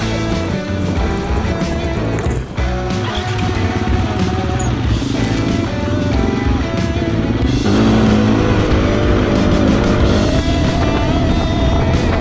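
Motorcycle engine roaring steadily while the rider pulls a wheelie on a trail in Spain, loud and close throughout with no pauses.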